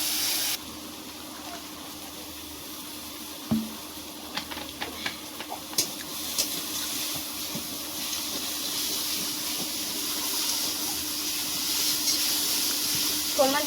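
Snakehead fish frying in hot oil in a home kitchen, a steady close sizzling hiss throughout with a few sharp pops and clatters early on, no talking.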